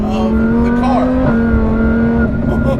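A supercharged VF900 Lamborghini Huracan making 700 wheel horsepower roars loudly at speed, holding a strong steady engine tone that dips and recovers around a gear change midway.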